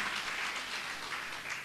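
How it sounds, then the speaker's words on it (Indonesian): Applause from a church congregation at a Sunday worship service, a short steady burst of many hands clapping filling the room, with no voices over it. "Mari berikan tepuk tangan."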